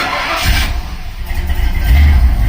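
A 1949 Ford F1 truck engine cranks and catches, rising into a low, rough idle rumble close by over about two seconds.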